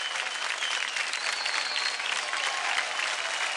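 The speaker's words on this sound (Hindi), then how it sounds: "जोरदार तालियां हो जाए" Sustained applause from a studio audience at a televised dance competition show, an even wash of clapping that stays constant and fairly loud from start to finish.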